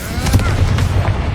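A Confringo fire spell going off in Hogwarts Legacy, a short, loud, low blast with a crackling burst, brief and close, with voice-like sound mixed in.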